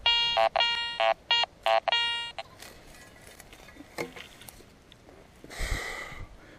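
A Garrett Ace 400i metal detector sounds a run of loud, clipped electronic beeps in bursts over a large piece of iron, then quieter scraping and a brief rough grunt-like tone near the end.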